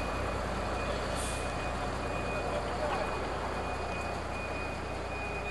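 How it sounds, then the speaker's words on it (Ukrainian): A new municipal city bus in Uzhhorod sets off on a test run, its engine rumbling loudly and steadily with a broad roar and a faint high tone throughout. "Новий автобус Ужгородського комунального підприємства рушає у тестовий рейс"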